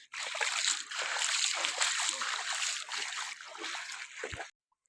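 Floodwater of the Sutlej river rushes past, a steady broadband roar and splashing of fast-flowing water heard close and continuous, faint overall, ending abruptly.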